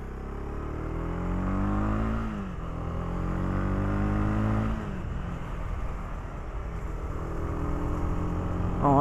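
A 2018 Honda CB300R motorcycle with a small 300 engine runs on a wet road, its exhaust note climbing through the revs and dropping at two gear changes. It is loud and close throughout, with no talking.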